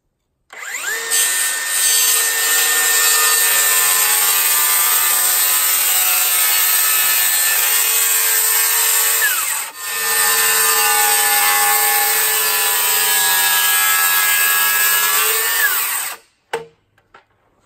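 A circular skill saw cuts a notch into a timber post for timber framing, set to a 2-inch depth; a loud, sustained high whine runs for about sixteen seconds with one brief dip midway, then stops.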